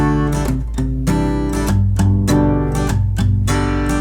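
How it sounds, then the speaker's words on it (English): Guitar strummed in a pattern with quick upstrums catching mostly the high first and second strings; ringing chords are struck about every half second, close and steady, with no voices. "that upstrum is really just hitting these high, like strings 1 and 2, maybe a little bit of 3."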